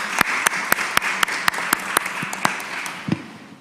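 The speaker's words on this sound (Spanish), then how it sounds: "Le damos un aplauso a Fundación Sol por la presentación." Sparse applause for a presentation in a Constitutional Convention environment committee session, a small group clapping in a regular rhythm of distinct, fairly close claps that thin out toward the end.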